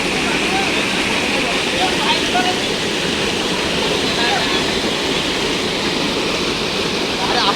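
A waterfall near a hilltop temple roars loud and close with a constant, unbroken rush of water, and voices are faintly present beneath it.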